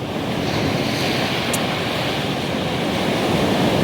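Loud ocean surf rolls and crashes continuously, mixed with gusty wind buffeting the microphone; no voices heard.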